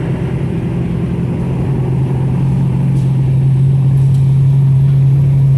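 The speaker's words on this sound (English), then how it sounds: "I'm just holding the accelerator. I'm letting the truck do the work." A truck engine runs steadily under a held accelerator, a loud, constant drone with a strong low hum that rises slightly in intensity over the clip.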